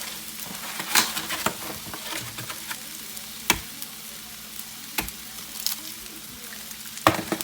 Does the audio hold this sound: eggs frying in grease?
yes